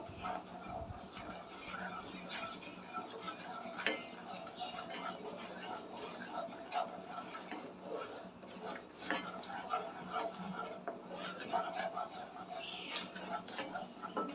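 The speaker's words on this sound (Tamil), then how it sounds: "கைவிடாமல் இந்த மாதிரி கலரிட்டே இருங்க இல்லைன்னா வந்து கெட்டிப்படும்" Roasted gram (pottukadalai) stirred in ghee in a pan for a sweet, a steady soft scraping and rubbing with scattered clinks of the spoon against the pan, continuing at an even moderate level throughout.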